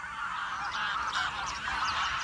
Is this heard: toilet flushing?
no